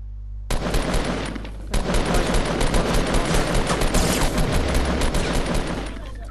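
Heavy, continuous automatic gunfire in Fortnite, a dense, loud rattle of rapid shots that carries on almost without a break, with a short gap near the start.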